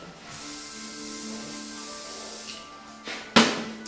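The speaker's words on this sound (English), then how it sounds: "afraid to use plenty of spray" A long steady hiss of hairspray from an aerosol runs for a few seconds, followed by a short sharp burst and a faint rustle.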